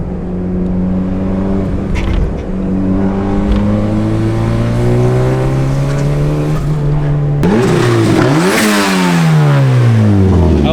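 A freshly tuned Mazda Miata engine revs repeatedly up and down close by, loud rising and falling pulls with a harder, higher rev burst near the end.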